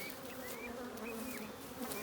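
Honey bees buzzing steadily in a spring apiary outside the hive, a dense continuous hum with individual insects whining past up close, no talking.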